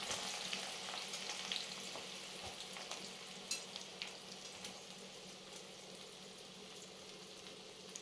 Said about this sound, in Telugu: నూనె కాగినాక కాకరకాయలు ఆ నూనెలో వేసుకొని ఫ్రై చేసుకోవాలి ఫ్రెండ్స్